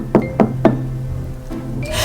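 Three sharp knocks on a door come in quick, even succession, close and crisp, followed by a quieter background murmur and a faint shuffle.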